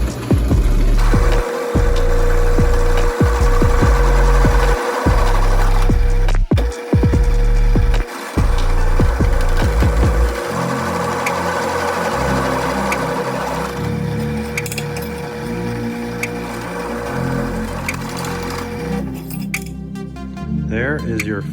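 A power drill bores speed holes into a metal Jeep grille bracket, whining loudly in repeated bursts of cutting that start and stop, then a steadier rumbling stretch follows.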